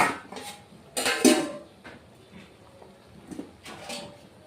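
A lid goes onto a cooking pot of katla fish curry with taro, producing a couple of close metallic clanks and rattles in the first second and a half, then fainter clinks later.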